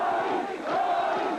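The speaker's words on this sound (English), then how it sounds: "greeted by tens of thousands of cheering supporters" Tens of thousands of supporters greeting the defense minister on a main street during the 1986 People Power uprising in the Philippines cheer and chant, a dense, loud and steady crowd roar with rising swells.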